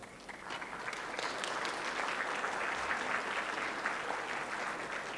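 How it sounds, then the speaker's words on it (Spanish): An audience at a Bolivian tax law conference gives a warm round of applause to welcome a speaker, the clapping swelling quickly and holding steady, fairly distant and even. "Ahora invitamos a Jaime Araujo Camacho, de Bolivia, a quien recibimos con un caluroso aplauso."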